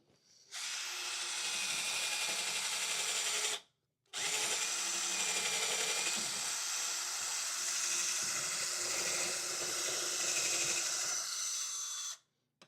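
A power drill bores into rollerblade skate wheels in two long, loud, continuous runs of high whirring and grinding, separated by a short pause, then stops abruptly.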